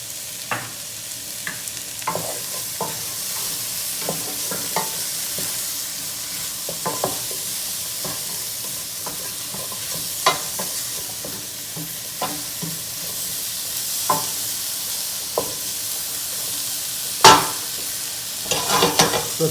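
Shakshuka base of onions and spices seasoned with salt and cracked pepper sizzles steadily in a pan, a continuous frying hiss broken by scattered stirring scrapes and soft clicks, with a sharper knock near the end.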